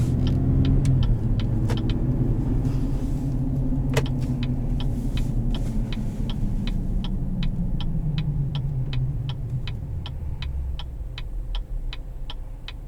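Road noise of a 2018 Chevrolet Colorado ZR2 on huge off-road tires, heard from inside as a steady loud rumble and drone, with a regular faint ticking, like a turn signal, through the second half.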